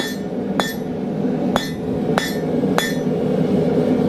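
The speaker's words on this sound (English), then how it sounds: "my hammer hits both on and off the anvil" A blacksmith's hammer strikes a heated nail blank on an anvil while forging a shoulder, four sharp ringing clinks spaced under a second apart, close and loud over a low steady background hum.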